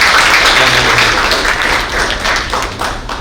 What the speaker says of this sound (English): One more round of applause for my fantastic.